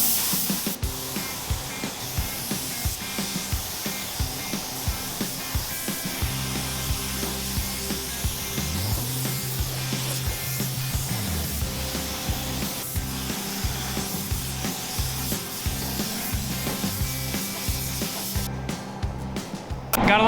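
Spray gun laying clear coat on a vehicle in a shop, a steady hiss broken by repeated short bursts and pauses, with a mechanical hum running underneath.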